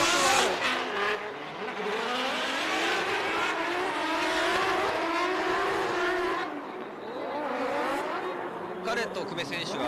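A drift car driven by Hiroki Kano, a Hirano Tire team car, on its first run at the D1GP Odaiba round in Tokyo: a loud, continuous engine roar with rising and falling revs and tire noise, under steady commentator talk.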